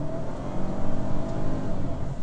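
A 2019 Volvo XC40 compact SUV engine pulls under throttle, a steady close droning growl with a slight rise in pitch as it accelerates, unbroken and fairly loud.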